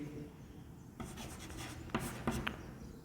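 Pen writing out a Class 9 polynomials maths solution, with steady scratchy strokes and a few sharper taps near the end, close up and alone.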